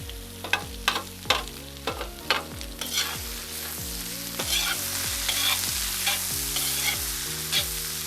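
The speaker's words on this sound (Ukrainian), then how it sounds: "Працюю на великому вогні, тушкувати моркву буду 5 хвилин" Carrots sizzle and fry in a cauldron over high heat while a utensil stirs and scrapes repeatedly, with steady crackling underneath the rhythmic stirring strokes.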